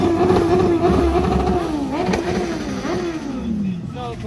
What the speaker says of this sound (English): now we got a bike revving